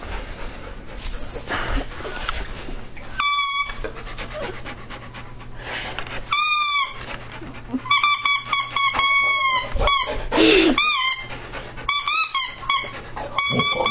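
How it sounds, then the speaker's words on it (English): A dog howls in several long, wavering, high-pitched bursts separated by short pauses, close by over a constant background hum. "I can make my dog howl"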